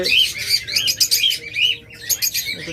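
Pet violet opaline budgerigars for sale chirp and squawk in quick, bright bursts, several birds calling close by in an irregular chatter.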